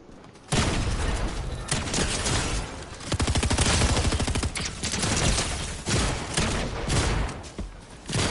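Gunfire in the battle royale game Fortnite, loud bursts of rapid automatic shots that begin abruptly and keep going in dense volleys, pausing briefly between them.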